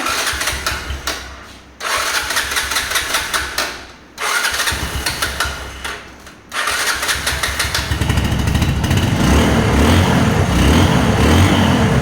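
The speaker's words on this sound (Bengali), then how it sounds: "ইঞ্জিনটা স্টার্টে দেখাই" An old motorcycle engine is cranked in several loud bursts separated by short pauses, then catches and settles into a steady, close running roar, with no talking.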